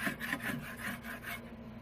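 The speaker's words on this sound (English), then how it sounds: "Scrape off all the sides." A utensil scrapes the sides of a container of honey and apple mixture in rhythmic back-and-forth strokes, about half a dozen rasping passes. The scraping is close but quiet and stands alone.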